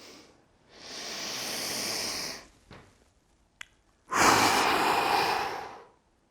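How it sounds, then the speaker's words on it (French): A person breathes deeply during a stretching exercise: one long loud exhale, a brief pause with a small click, then a second strong, forceful breath that lasts over a second, close and alone. "on va bloquer sa respiration quelques secondes et souffler au maximum et relâcher ses membres"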